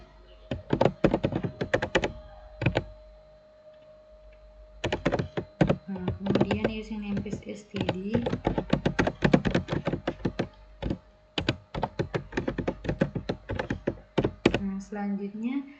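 Someone types C++ code on a computer keyboard in rapid, uneven bursts of close, clicky keystrokes, with a brief lull early on. A voice speaks intermittently beneath the clatter.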